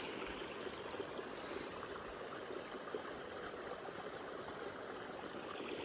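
Creek water flowing steadily along a hiking trail on a rainy day, a continuous broadband rushing and babbling that stays even and fairly close throughout, with no voices.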